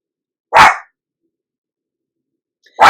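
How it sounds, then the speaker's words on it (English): A dog barks loudly twice at close range, single sharp barks separated by about two seconds of silence. "She has the right to be barking."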